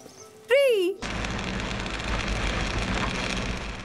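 Rain falls steadily and heavily, a dense, continuous hiss of drops at close range that starts abruptly after a short wavering tonal sound, like a voice or instrument, and keeps on to the end.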